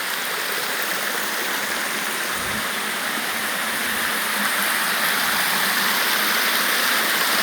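A small forest waterfall and shallow river stream running low in the dry season, giving a steady, even rush of water that holds constant throughout with no talk.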